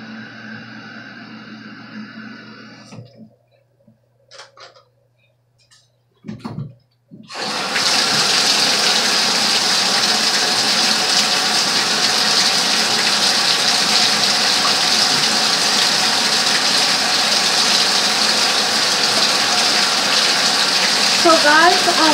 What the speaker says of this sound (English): my sink is not working, so I have to use my kitchen sink until the sink gets fixed